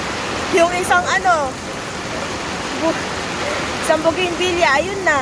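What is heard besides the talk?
rushing flood water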